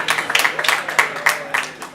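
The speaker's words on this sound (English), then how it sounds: "Those of you that have been there, you can clap." Wedding guests clap in short scattered bursts at a reception, several quick rounds of applause rising and fading over about two seconds, fairly close and moderately loud.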